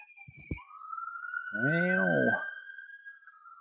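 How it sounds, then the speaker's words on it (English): A police siren wails past in the distance as one long, steady tone with a loud swell in the middle, and a couple of sharp knocks come just before it. "I'm gonna wait for that siren to go by."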